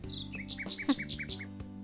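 Video game birds chirping in a school setting, a string of short bright tweets repeating in quick succession over a steady background music bed, moderately close and clear.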